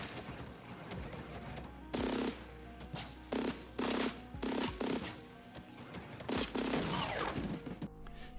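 Experimental weapons firing in a video game, repeated loud bursts of rapid automatic gunfire separated by short pauses, close and punchy with no talking.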